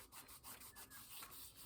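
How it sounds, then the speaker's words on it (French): A nail file rasps along the edge of a paper napkin in quick, repeated close-up strokes, a dry scratchy rubbing that pulses steadily with no voices. "la lime à ongles pour râper le bord"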